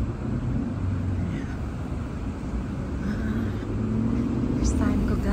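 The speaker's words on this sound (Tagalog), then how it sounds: "Ang traffic dito palagi paghapon." Afternoon traffic at a busy intersection, a steady low rumble of cars and engines heard close by, with people talking over it.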